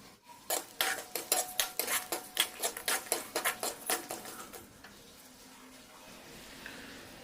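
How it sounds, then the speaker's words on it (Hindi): Gram greens (chana bhaji) being stirred and fried in a pan: about sixteen quick, rhythmic metal scrapes and clinks of the spatula, then a faint, steady frying sizzle alone. "भाजी हमें अच्छे से चलाते रहना है जब तक कि भाजी भी अच्छे से फ्राई ना हो जाए"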